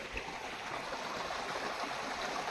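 Water from a pump motor pours into a tank in a continuous, even rushing flow, moderately close, without speech.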